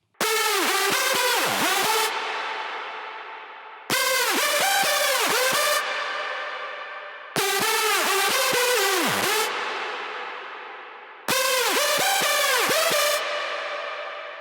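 A bright synth lead repeats the same short phrase four times, notes sliding and bending in pitch, each phrase trailing off before the next.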